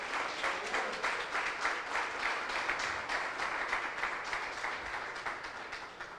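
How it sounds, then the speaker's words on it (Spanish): A church congregation applauds steadily, the clapping rising quickly and then slowly tapering off toward the end. "Dele ese aplauso al Señor si lo quiere hacer"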